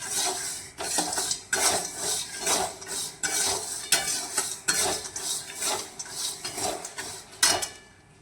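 Dried haritaki (himej) roasting with black salt in a pan, stirred in repeated rhythmic strokes that produce gritty scraping and rattling against the metal, close and fairly loud.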